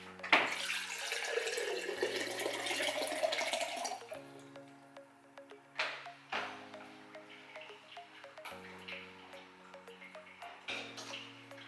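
A kitchen tap runs at first to draw drinking water, a steady splashing stream that stops after a few seconds, followed by scattered ticks and small clinks in a quiet room.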